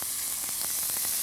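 Ostrich fillet sears in a hot pan, a dense, continuous sizzle and crackle of frying meat, close and loud, steady throughout with no voices.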